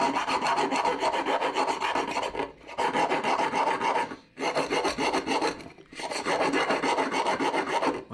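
A round file deburring a bicycle seat tube, close rhythmic rasping in four bursts of repeated strokes separated by short pauses, no voices.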